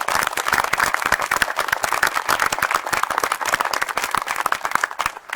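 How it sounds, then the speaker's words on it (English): An audience at an evening scouts' gathering at Millbay Docks, Plymouth, claps for a group of young scouts: dense, steady applause from many hands, close and loud, continuing without pause and tailing off slightly at the end. "Can we give these young people a round of applause?"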